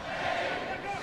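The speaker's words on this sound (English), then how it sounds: "You hear the crowd." A loud, roaring basketball arena crowd fills a short moment at a Duke Blue Devils versus Georgia Tech Yellow Jackets game, with steady cheering and shouting throughout.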